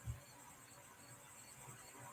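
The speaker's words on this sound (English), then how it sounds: "listening to the crickets and the katydids" Crickets and katydids chirp faintly outdoors, a steady, distant insect chorus with no voices.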